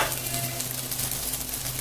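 Dhenki greens fry in mustard oil in a pan, a steady close sizzle with faint stirring, no voices.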